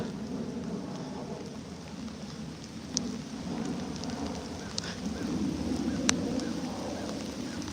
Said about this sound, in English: Rain is just another day, man. It's just rain.